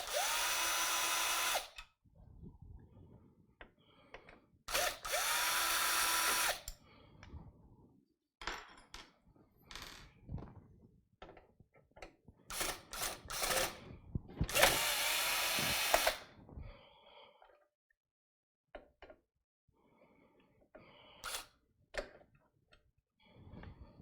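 A low-set power drill removes plastic motherboard brackets in a PC upgrade, with several loud whirring bursts and the rapid ticking of the clutch slipping between them, plus quiet clicks and handling in the pauses.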